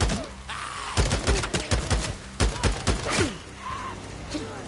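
Shotgun blasts in the video game Days Gone, a rapid run of loud, sharp booms at irregular intervals, mixed with game effects and background music.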